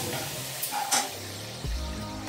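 Washed onions sauté in a hot pan with a steady, close sizzle. A few brief clatters and stirring knocks rise over it.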